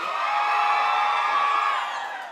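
Fans cheer, whoop and shout loudly and steadily throughout, a dense crowd roar inside a room at an iHeartRadio event for a band, fading slightly at the end.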